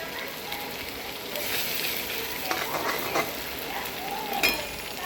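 Vegetables, potato and vermicelli are stirred in a frying pan, giving a steady sizzle with soft scraping strokes that rise briefly near the end; no one speaks.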